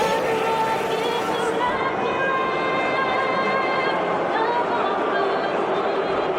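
A huge stadium crowd of over 30,000 at WWE Elimination Chamber booing while a singer performs the American national anthem, a dense, continuous roar of jeering with faint sung notes barely poking through the wash.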